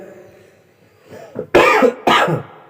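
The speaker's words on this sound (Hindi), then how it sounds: "खांसी" A person nearby coughs twice, loud and harsh, in two quick bursts after a soft throat-clearing sound.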